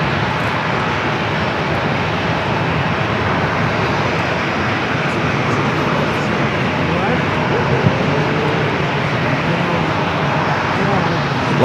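Alaska Airlines Boeing 737-800 jet at San Diego airport, a steady broadband engine roar heard from a distance, constant and fairly loud throughout.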